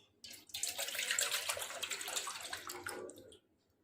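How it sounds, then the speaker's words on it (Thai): Coconut milk poured into a pot for Singapore-style lod chong dessert, a steady close splashing stream lasting about three seconds before stopping, with no talking. "น้ำกะทิเลยค่ะใส่ไปเลย"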